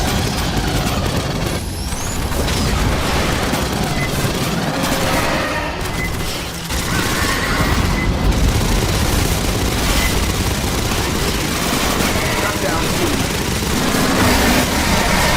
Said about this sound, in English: Pulse rifle sounds exactly how it should.